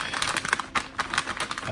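Loose Commodore 128 keycaps, already washed, shuffled around inside a plastic vacuum bag, giving a quick series of light plastic clicks and rustles over under two seconds, close and fairly loud.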